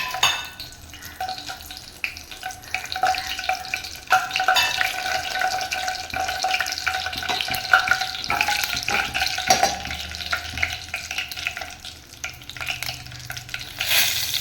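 Mustard seeds, urad dal and fennel frying in hot oil in a kitchen, a steady crackling sizzle with occasional stirring clatter throughout, no voices.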